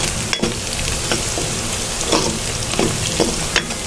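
Onion and whole spices frying in hot oil for bhuna khichuri, a steady close sizzle with occasional stirring scrapes and clinks, no voices.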